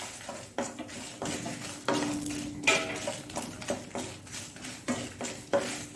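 Masala ingredients frying on a low flame for Udupi-Mangalore koddel gravy, with recurring metallic clinks and scrapes of a spoon stirring in a pot over a soft sizzle, steady and close.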